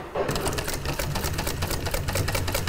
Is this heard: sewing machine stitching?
yes